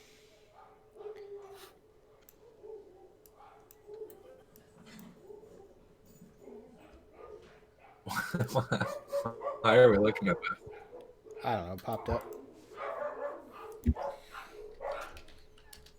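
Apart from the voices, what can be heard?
dogs barking, neighbor's dog and own dogs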